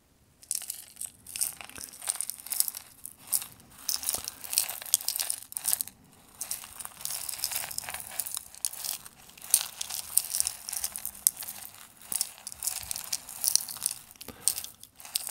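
Continuous dry crinkling and rustling of loose tea leaves shaken inside a packet, close and fairly loud, with irregular crunchy bursts throughout.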